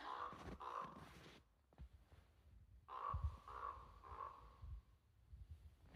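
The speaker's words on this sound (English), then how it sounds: "That's our resident raven." A raven in a snowy forest gives two bursts of hoarse, croaking calls, the first near the start and a louder run of three or four calls midway, with quiet, still air between them and no talk.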